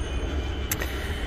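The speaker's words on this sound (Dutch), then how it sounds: "Maar nu dat ik hier die goederentrein zie, is het wel even interessant om het nog te tonen." Freight train passing Terneuzen station on the line toward Belgium, a steady low rumble of rolling wagons with a brief bright wheel squeal near the middle, fairly close and without speech.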